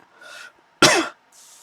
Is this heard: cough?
yes